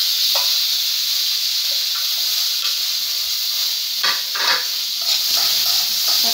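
Onions sautéing in hot oil for a coconut chutney served with dosa and idli give a steady, close hiss and sizzle throughout, with occasional stirring scrapes and no talk.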